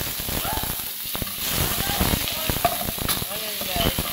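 Chopped onion sizzles and crackles in about three tablespoons of hot cooking oil in a pan, a steady, close, loud frying hiss with scattered sharp pops and the occasional stir.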